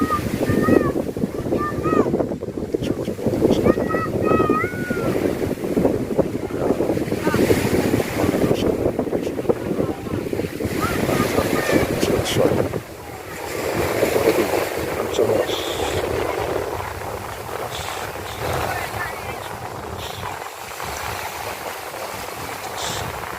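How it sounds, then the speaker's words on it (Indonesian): Sea waves wash and surge along the Nanga Woja coast at rising tide, loud and continuous with heavy wind buffeting the microphone, and a voice is heard near the start. "Saat kami tiba di tempat ini, air laut sedang naik"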